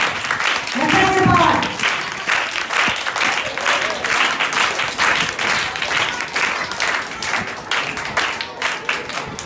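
Children clap together at a vacation Bible school lesson, a steady dense patter of many small hands sustained for several seconds, with a voice speaking briefly near the start.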